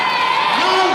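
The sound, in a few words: Lao team supporters cheering at sepak takraw match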